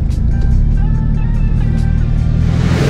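Car engine idling and rumbling at low speed while being parked, a steady loud close drone with a low throb, with faint voices under it.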